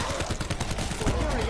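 Rapid barrage of video game gunfire, dense overlapping shots rattling continuously and loudly throughout with a game tone running underneath, no clear pauses.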